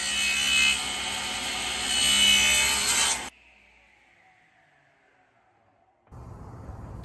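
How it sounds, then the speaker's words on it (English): A saw cuts the side of a wooden tenon on a rail held in a jig for a floating coffee table, with loud rasping for about three seconds, a near-silent pause, then the sawing resumes. "Now we can cut the other side of the tenon on both the rails"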